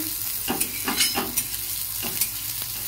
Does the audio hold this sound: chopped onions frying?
yes